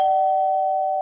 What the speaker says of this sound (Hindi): अचानक डोरबेल की आवाज